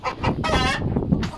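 A hen on a farm in Saudi Arabia clucks in quick, loud bursts up close, with a rougher drawn-out call in the middle and general farmyard noise underneath.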